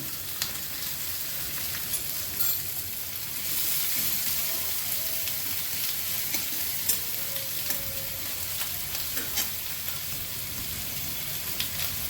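Ginger and garlic fry in hot oil in a pan for a doi potol curry, a dense steady crackling sizzle throughout, close and even, with occasional sharper pops.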